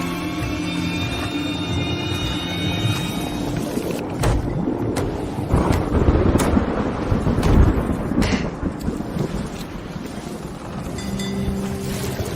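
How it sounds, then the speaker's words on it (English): A thunderstorm rages over water in Elder Scrolls Online's Cyrodiil as a steady roar of wind and rain builds and ebbs. Deep rumbling thunder swells through the middle and is broken by sharp cracks. "the storm had to come"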